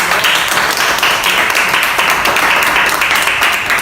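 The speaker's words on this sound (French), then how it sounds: "Acclamons pour papa" An audience claps and cheers for a volunteer at a sanitary pad product demonstration, dense sustained applause filling the room for several seconds.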